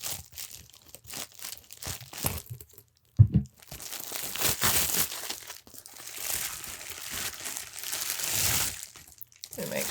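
A mail package is cut and pulled open up close, with bursts of crinkling plastic, tearing, and rustling packaging material in an uneven, handling rhythm.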